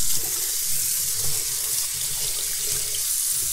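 Warm tap water runs steadily into a sink to rinse a car polishing pad, a constant close splashing stream with no talking.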